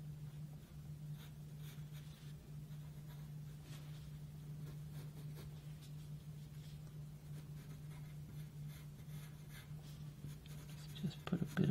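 A pencil shades a drawing of a tin can on paper, making soft, faint, continuous scratchy strokes over a steady low hum in a quiet room.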